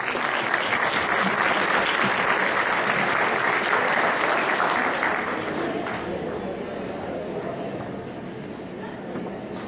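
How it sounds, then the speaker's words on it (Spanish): A seminar audience at a dental faculty alumni gathering breaks into sustained, dense applause that holds steady at full strength, then thins and fades toward the end. "Recibámosla con un fuerte aplauso."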